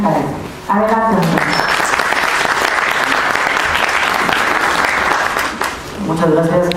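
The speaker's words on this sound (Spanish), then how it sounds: "le acompañamos con un aplauso" Sustained applause from a conference audience at a school lecture hall, loud and dense for several seconds, bracketed by a speaker's voice at the start and end.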